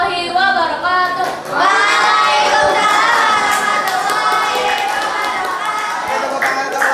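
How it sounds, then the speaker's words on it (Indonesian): Classroom applause from junior high school students for a presenting group in a Grade VII mathematics lesson, steady clapping with some voices and shouts mixed in, fairly close and lasting several seconds. "Tepuk tangan ke kelompok 3."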